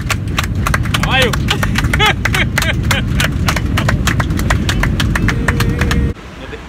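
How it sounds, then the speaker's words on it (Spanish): Horse hooves clip-clop in a fast, steady rhythm of sharp knocks close by, over a loud rumble of traffic or an engine, with people talking and a brief whinny-like call, until the sound cuts off abruptly near the end. "vamos a ver, caballo. Caballo."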